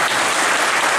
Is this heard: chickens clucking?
no